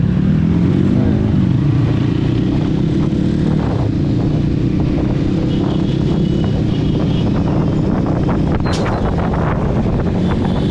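Motorcycles on a dirt ride in Nepal rev and roar loudly and continuously, thick with engine drone and heavy wind buffeting on the microphone, with no voices heard.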